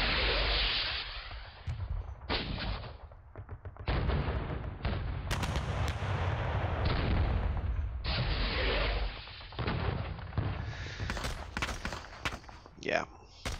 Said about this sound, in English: Boom, yeah, he's got some artillery there.